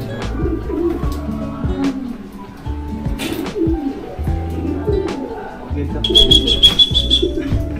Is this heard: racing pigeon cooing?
yes